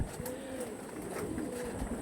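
Soft, low pigeon coos roll out in a few drawn-out phrases, fairly faint over a dull background hum.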